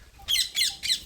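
Three harsh, loud parrot squawks in a quick, evenly spaced series, heard outdoors near a temple with a pipal tree, with little else in the background.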